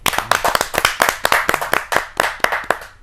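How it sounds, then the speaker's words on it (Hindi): Applause for a poet at a poetry gathering, made of a small number of distinct, loud close claps in an uneven rhythm rather than a dense wash, continuing for about three seconds. "आपके जोरदार तालियां मिले इस कवि को"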